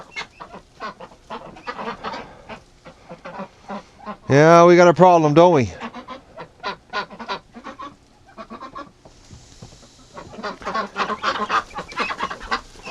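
Geese and ducks honking inside a farm coop, one loud burst of goose honks near the middle amid shuffling and light clatter, with someone talking briefly before and after.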